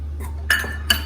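Gram flour and rice flour batter mixed in a bowl, with two quick metallic clinks of a spoon against the bowl over a low steady hum.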